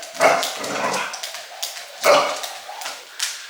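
An excited dog barks and yips in quick, sharp outbursts, loud and close, with whimpering between the barks and a couple of strong barks standing out.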